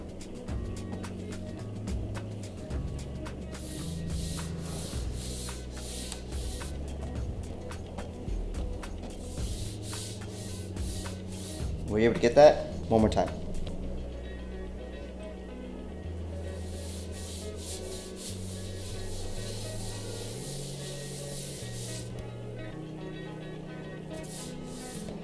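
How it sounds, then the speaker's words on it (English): A steady gritty scraping, like a hand rubbed back and forth over heavily contaminated car paint, sounding like sandpaper, runs throughout with a brief louder burst midway and a short spoken question. "this panel is super contaminated. You can hear it sounds like sandpaper"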